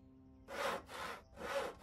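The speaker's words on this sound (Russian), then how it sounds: "Пили древесину." A hand saw cuts through wood in the game Gothic Archolos, making three rasping strokes in an even back-and-forth rhythm, close and clear against a quiet background.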